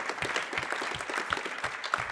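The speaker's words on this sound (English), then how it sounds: "give him a round of applause" Audience applause at a cybersecurity conference speed debate, a steady patter of many hands clapping together in a hall.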